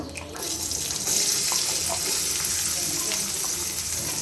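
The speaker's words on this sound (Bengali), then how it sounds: "এবার হচ্ছে আমি দিব পেঁয়াজ কুচি, এই তেলের মধ্যেই দিব।" Chopped onion hits hot oil in a home kitchen pan, setting off a loud, steady hiss and crackle of frying that fills the clip without speech.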